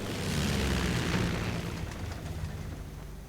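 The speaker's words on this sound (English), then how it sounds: "But a strafing run gets one." A strafing run in the Company of Heroes strategy game, a 1v1 match, sets off a heavy booming blast whose low rumble rolls on and slowly fades.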